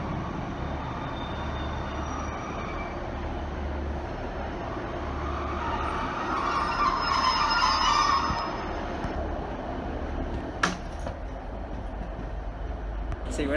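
A train rumbles through a station with a steady low drone and rolling clatter, building to a louder passage midway, with a sharp clank near the end and people talking faintly beneath.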